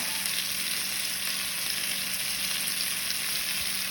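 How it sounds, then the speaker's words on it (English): Sautéing in butter and oil with a garlic, pepper, onion and salt spice mix, a steady close sizzle throughout, no voices. "I'm gonna saute these down for about 5 minutes or so"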